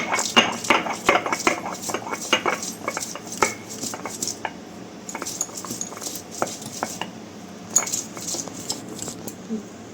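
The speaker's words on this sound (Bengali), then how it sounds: "রসুন বাটা হয়ে গেল।" Garlic and a little ginger are ground by hand against a stone. A fast run of sharp, rhythmic scraping and knocking strokes slows into sparser, quieter grinding taps.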